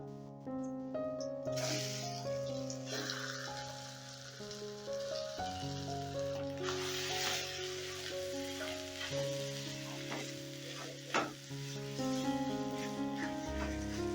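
Mashed potato goes into a hot tempering of ridge gourd and curry leaves, and a steady sizzle and frying crackle runs throughout under a sustained musical background, with occasional stirring scrapes.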